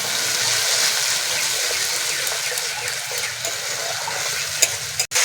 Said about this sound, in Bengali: বেটে রাখা মশলাটা দিয়ে দিচ্ছি মশলাটা ভালো করে ভেজে নেবো